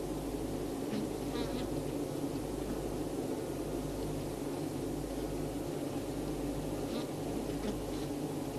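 Continuous low buzzing of honeybees working inside a beehive, a dense steady hum with occasional nearer wing whines passing close by.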